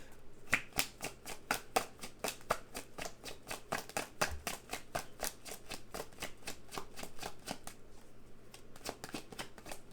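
Tarot cards being shuffled over and over in a steady run of crisp, close riffling clicks lasting about ten seconds, with no talk over them.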